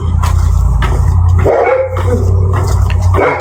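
A dog barks a few times nearby over a steady low hum of background noise, the barks short and clustered.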